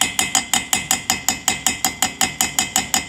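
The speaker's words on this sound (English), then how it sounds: "I'm just going to take a sharp little chisel here and I'm going to make a witness mark" Hammer rapidly tapping a sharp chisel against a Rotax 185 engine to scribe a witness mark: about seventeen crisp, evenly spaced metallic taps in quick succession, close and clear with nothing else heard.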